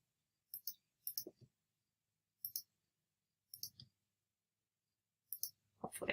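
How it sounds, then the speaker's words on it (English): A computer mouse clicks in quick pairs and small clusters, each burst crisp and close, separated by brief silences in a quiet room. "Just going to click anything."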